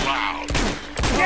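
Two sharp bursts of gunfire in the game Uncharted 2: Among Thieves Remastered, about half a second apart, loud and close over a steady in-game background hum.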